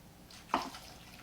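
Water is poured into an Instant Pot Ace blender jar with root vegetables, heard as one short, soft splash midway through an otherwise quiet moment.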